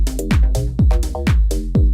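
Electronic music jam playing back with a steady beat: a pulsing bass line, punchy drum hits and bright synth stabs repeat in a loud, tight loop with no talking.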